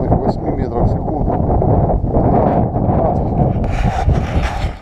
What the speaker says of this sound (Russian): сильно очень ветер, вместо обещанных 8 метров в секунду